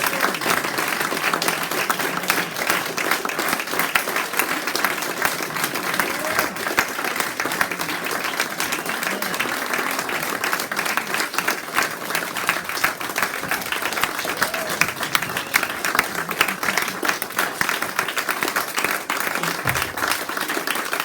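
An audience at a poetry reading event claps steadily for the full stretch after a poem, a dense, sustained wash of applause with no break and no voices rising above it.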